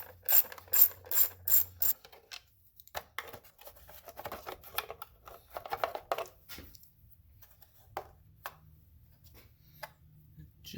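A hand ratchet clicks in quick, sharp bursts while T30 bolts are loosened from the engine cover of a 2007 Mini Cooper R56. Close metallic clatter and handling noises follow, with someone talking at times.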